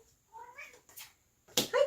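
A kitten meows several times in short, rising and falling cries, with a brief breathy sound in between and a louder final burst of meows close by.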